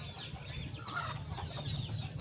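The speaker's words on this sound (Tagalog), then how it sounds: "Ay mga tandang niya." Faint clucking from roosters, distant and low, over a quiet outdoor hum with scattered chirps of other birds.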